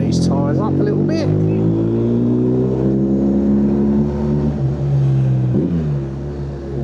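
A motorcycle rides along a road in Spain or Portugal with its engine droning loud and close, the pitch rising and falling as it accelerates through the gears, while a person talks over the engine noise.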